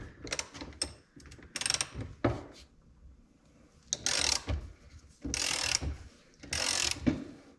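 A ratchet with a 30mm socket loosens the end cap on the fork of a 2006 KDX 200 motorcycle, giving several loud, close bursts of ratcheting clicks with brief quiet gaps between them.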